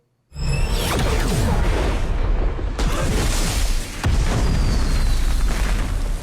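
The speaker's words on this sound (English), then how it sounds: "Somehow that explosion seemed less intense than the other explosions of the trucks." Explosion in the movie Black Adam, a sudden loud boom that erupts into a sustained roaring, crackling blast with whooshing debris and a second hit partway through, heard without talk.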